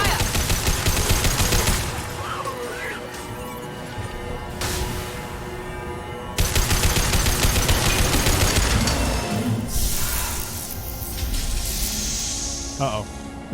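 Gunfire in the video game Mass Effect 2, with dense bursts of rapid shots and booms that keep going through most of the stretch alongside game music and a talking voice.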